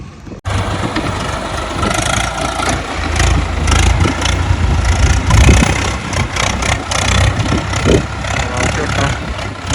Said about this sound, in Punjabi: ਆ ਦੇਖੋ ਚੱਲ ਰਿਹਾ ਸਵਰਾਜ